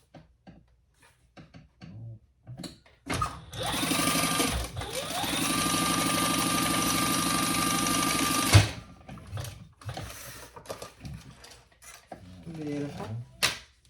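A sewing machine stitches a bag's slip pocket closed in one sustained, rapid mechanical run lasting several seconds, loud and close, framed by a few scattered handling clicks and thumps, and people talk before and after it.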